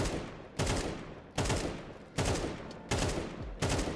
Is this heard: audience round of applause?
no